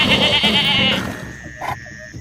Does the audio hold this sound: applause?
no